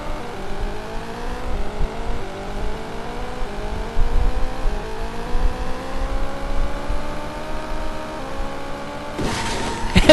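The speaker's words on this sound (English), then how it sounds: "All we have is engine sounds." Racing video game car engines drone and rise in pitch continuously, layered revving tones climbing steadily with no music, ending in a brief harsher burst of noise near the close.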